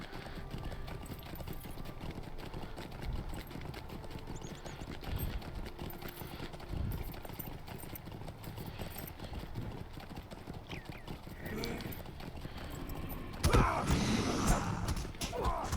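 Horse hooves clip-clop steadily in the online game Lord of the Rings Online, a continuous close trotting rhythm under ambient game sound, ending in a louder burst near the end.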